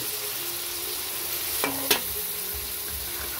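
Snails (kuhol) go into a pan to cook for adobo sa gata, giving a steady close sizzle with a couple of brief clatters of shells and utensil partway through.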